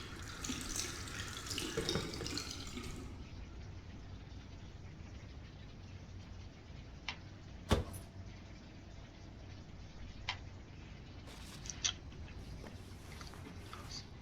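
A sink tap runs water in the video game Indigo Prophecy, a strong gush at first that settles into a softer steady trickle with a few sharp clinks and knocks; no one talks.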